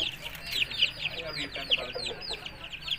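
An aseel hen clucks in a quick, repeated run of close, bright calls over a low background murmur.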